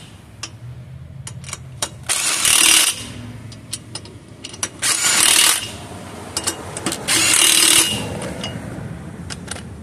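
An impact wrench on a 2003-2006 Honda Element, changing the front brake pads, fires three loud sustained bursts, each lasting about a second, with quieter clinks and tool handling in between.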